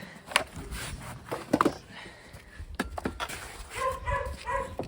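A dog gives a few short, sharp barks and yips at moderate distance, with some soft movement noise between them.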